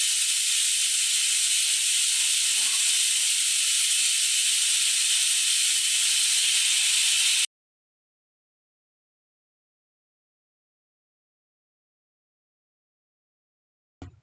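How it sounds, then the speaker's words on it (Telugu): A pressure cooker holding mutton paaya lets out a strong, steady steam hiss for about seven seconds, then cuts off to silence. A single brief knock sounds at the very end. "ఇప్పుడు మూత వేసుకుని విజిల్ పెట్టి 7 నుంచి 8 వరకు విజిల్స్ వచ్చే వరకు కుక్ చేసుకోండి."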